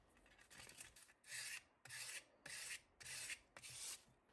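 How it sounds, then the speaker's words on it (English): The tip of a piano wire is sharpened on 220 grit sandpaper while making an upright piano bridle strap inserter: a close series of about five steady, rhythmic rasping strokes, alone and with no talk. "Here I'm sharpening the end of that wire on a number 220 grit sandpaper."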